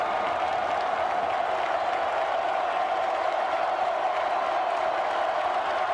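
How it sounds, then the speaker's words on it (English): A large football stadium crowd at a college rivalry game, Oklahoma versus Texas, roars in a steady, loud, sustained wall of cheering and noise throughout, with no clear individual voices standing out. "Listen to this crowd."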